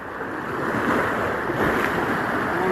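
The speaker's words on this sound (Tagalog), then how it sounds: "malalaking alon" Large ocean waves roll in at low tide on a bay, a loud continuous wash of surf mixed with strong wind buffeting the microphone.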